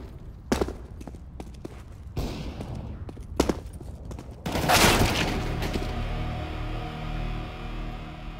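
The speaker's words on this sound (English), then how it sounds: "I'm throwing a flashbang." A flashbang goes off amid sporadic gunfire in Counter-Strike: Global Offensive: a few sharp shots early, then a loud broadband burst near the middle that rings out and slowly fades, with no talk.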